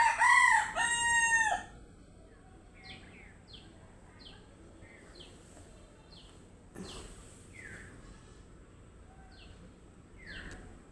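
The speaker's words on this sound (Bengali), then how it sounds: "মোরগ ডাকছে, এটা আমার মায়েরই মোরগ" A family's pet rooster crows loudly and close in one long call at the start, followed by quieter chirping birds in the background.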